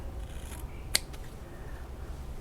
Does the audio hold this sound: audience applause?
no